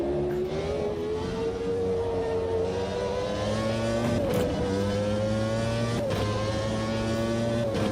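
Arrows Formula 1 car from the 1992/1997 season in Automobilista 2, its high-pitched engine howling steadily and rising slightly in pitch as it passes at racing speed, loud and continuous with no talk.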